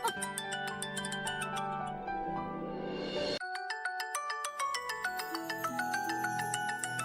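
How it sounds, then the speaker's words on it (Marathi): A mobile phone ringtone plays a bright, repeating electronic melody, steady and fairly quiet, with a short break partway through before the tune resumes, in a domestic scene from a Marathi TV serial. "अगं बघतेस तर फोन घे पण."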